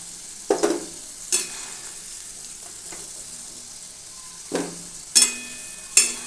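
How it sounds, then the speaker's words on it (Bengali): Potatoes frying in oil sizzle softly and steadily while a utensil scrapes and stirs through them in several sharp, separate strokes, close and clear, with no talk. "ভেজে নিচ্ছি দেখুন আমার আলু ভাজা হয়ে গেছে"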